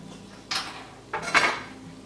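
A spoon stirs sloppy joe mixture with brown sugar and chopped pickle in a pan, giving two short metallic scrapes and clanks against the pan, close by, with quiet between them.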